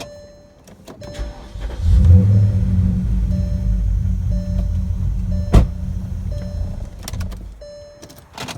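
A 2005 Porsche Cayenne S engine is cranked on its starter with the spark plugs removed, giving a steady, loud mechanical whir and rumble that runs for about five seconds before cutting off. No one speaks.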